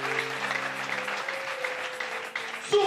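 Church congregation at a dedication worship service applauding and cheering together, a steady wash of clapping with a sustained tone held underneath.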